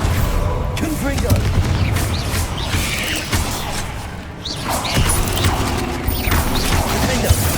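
Blasting spell impacts from Confringo in Hogwarts Legacy, a chaotic stream of booms, crashes and fiery bursts in a busy magical fight, with voices calling out spells over the noise.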